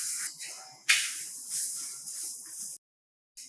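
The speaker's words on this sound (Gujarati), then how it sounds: "તો અત્યારે હું પરોઠાને બટર મૂકીને શેકું છું." Butter sizzles steadily under a paratha roasting in a hot pan, a close, continuous hiss with a brief louder flare. It drops to silence near the end, then a short burst of sizzling returns.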